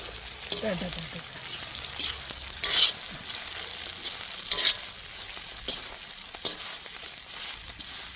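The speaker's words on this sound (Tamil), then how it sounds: "துவையலுக்கு எல்லா பொருளையும் நல்லா வதக்கியாச்சு" Grated coconut, curry leaves and other appalam thuvaiyal ingredients sauté in a pan, with steady soft sizzling, scraping spatula stirs and occasional sharp knocks against the pan, all close up with no talking.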